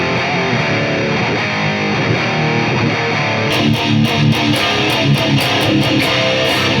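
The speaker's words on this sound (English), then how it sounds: "This is a tone model of my VHT Deliverance 120 with my Mesa X1A IR, and you can just hear the difference." An electric guitar played through a TONEX tone model of a VHT Deliverance 120 amplifier with a Mesa X1A cabinet IR rings out as a loud, continuous distorted tone with an echoey, cavernous quality, and sharper rhythmic strummed hits come in during the second half.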